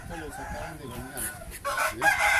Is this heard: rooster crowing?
yes